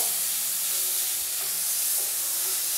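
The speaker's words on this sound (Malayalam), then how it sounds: "ഫ്ലെയിമിനി മീഡിയത്തിൽ വെച്ച് കൊടുത്തിട്ട് തന്നെ നമുക്ക് നന്നായിട്ട് ഇതെല്ലാം ഒന്ന് വഴറ്റി കൊടുക്കാവുന്നതാണ്" Finely chopped onions for a Kerala-style cauliflower gravy sauté in a pan over medium flame, a steady close hiss and sizzle with faint occasional stirring clinks and no talking.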